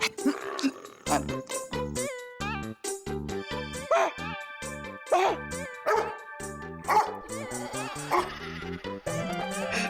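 In a Hindi TV comedy, a man mimics a dog, giving a run of short, repeated bark-like yelps and whines in quick rhythmic bursts, with other background sound beneath.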